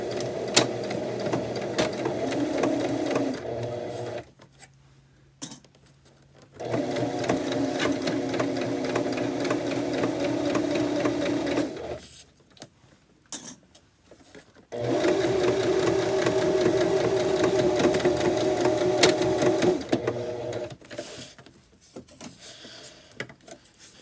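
A sewing machine stitches a fabric bag in three long steady runs of whirring, each several seconds, separated by quiet pauses, close and moderately loud.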